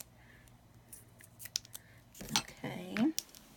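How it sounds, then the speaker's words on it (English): Scissors snip through card stock for a handmade Heartfelt Creations card, a few quiet cuts and rustles building to a louder crisp snip near the end, close by with no talking. "now I need to cut a little bit smaller"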